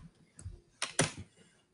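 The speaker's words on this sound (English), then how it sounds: "I'm gonna type them right here." Short burst of typing on a computer keyboard, a few close key clicks clustered together with quiet gaps before and after, no talking.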